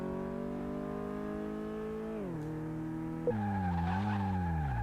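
Game car in Car Mechanic Simulator on a test track, engine tone falling then braking into a loud sustained tire skid and squeal, close and alone with no talk.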